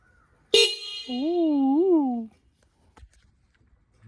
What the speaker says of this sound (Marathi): आता मस्त की हॉर्न वाजवते, आवाज बघा कसा घुमेल